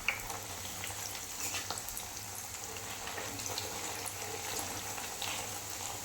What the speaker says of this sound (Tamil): நல்லா கோல்டன் ப்ரௌன் ஆகிற வரைக்கும் நம்ம பொரிச்சு எடுத்துக்கலாம்